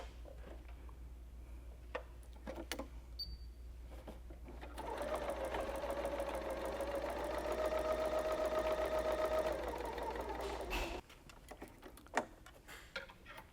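A Bernina L890 sewing machine runs a chain stitch through fabric, its steady rapid mechanical whir and ticking building in the middle stretch and running continuously for several seconds before stopping, with quiet handling clicks before and after.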